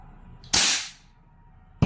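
A VFC BCM MCMR 14.5 airsoft gas blowback rifle fires a single loud, sharp shot with a brief decaying tail, followed by a quiet pause.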